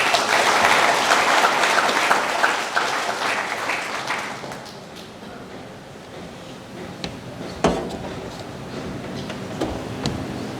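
Audience clapping fills a graduation ceremony hall, loud and dense at first, then thinning into scattered claps with a few knocks and a faint voice.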